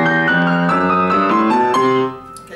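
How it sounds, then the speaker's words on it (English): A rock and roll piano plays a chromatic ending riff, a quick run of bright, ringing chords moving down in steps, loud and close, before the final notes fade. "this is a kind of nice little rock and roll ending riff,"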